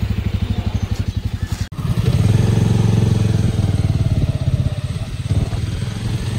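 A black Bajaj Avenger 220 cruiser motorcycle idles with an even thumping beat, then its engine is revved and holds a louder, rougher roar. The engine runs alone, up close.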